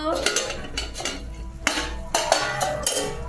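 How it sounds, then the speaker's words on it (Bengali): A metal spoon stirs paneer chilli sauce with ketchup in a pan, clanking and scraping loudly against the pan in irregular bursts, close up with no speech. "এরকম নাড়তে থাকবেন দিতে দিতে নাহলে ফল ছড়া নিচে বসে যাবে"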